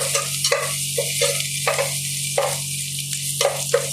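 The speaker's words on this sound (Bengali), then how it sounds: "ডালে আগে মাছটা কষিয়ে নিব" Fish pieces sizzle in a pan with a little oil, garlic and onion, a steady crackling hiss with brief bursts as the fish is stirred and turned.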